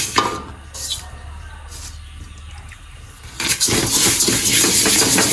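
Sesame seeds roast in hot oil in a pan, first under a low steady hum, then a loud broadband sizzle breaks out partway through and keeps crackling to the end.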